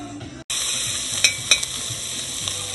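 Onions frying in a little oil in a pan, a steady close sizzle throughout, broken briefly by a short gap and a couple of stirring scrapes and clinks.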